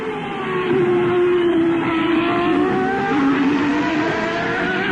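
Formula 1 cars from the 1993 South African Grand Prix at Kyalami scream past in a steady high-pitched engine wail, with the engine note rising and falling slightly through the clip. There is no talk.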